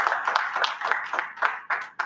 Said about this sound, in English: The usual applause for Toastmaster Machine for conducting the session with you.